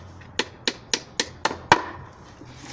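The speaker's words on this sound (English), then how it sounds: "I'm now a little bit better at hammering the nail in." Six evenly spaced hammer blows drive nails into a wooden beehive under construction, sharp close knocks in a quiet room, the last strike the loudest.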